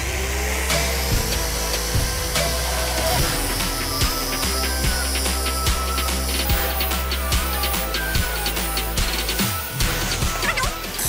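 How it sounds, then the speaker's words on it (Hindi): An angle grinder cuts through the outer shell of a wireless microphone, a steady, loud, close whine with scraping and rattling running the whole time and no talk over it. "काटने के लिए हम लोग यूज़ करेंगे एक एंगल ग्राइंडर का, जो कि अपने आप में बहुत डेंजरस है"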